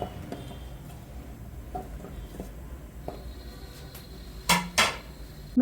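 Fried curry leaves and gooseberry being scooped from a pan onto a plate, a few soft scrapes and light metallic clinks, with two sharper utensil knocks near the end in a quiet kitchen.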